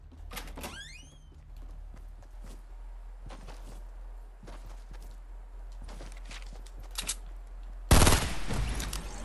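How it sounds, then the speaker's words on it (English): Gunfire in the Fortnite Battle Royale video game: scattered sharp shots and short bursts ring out at mid distance, some with faint footsteps between them, ending in a louder, closer burst near the end. "Alright, I hear shooting."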